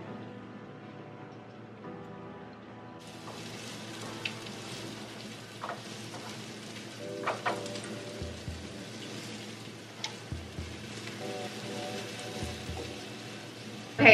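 Seasoned vegetables with pink Himalayan salt sizzle steadily in a frying pan, a constant crackling hiss with scattered louder pops and spits, close by and with no talk over it.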